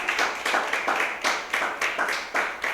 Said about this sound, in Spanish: esta noche un aplauso al Señor